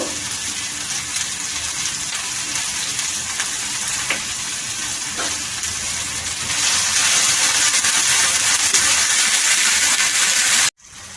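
Stuffed eggplant frying in a pan of oil gives a steady, close sizzle with light stirring scrapes, and the hiss grows noticeably louder and brighter partway through.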